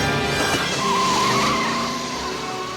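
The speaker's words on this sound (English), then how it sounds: "Marty, in desperation, hits the wheel with his head and the car starts." A DeLorean-style car from Back to the Future roaring to life and pulling away, a loud continuous engine rush with a squealing tire tone rising and fading, no voices.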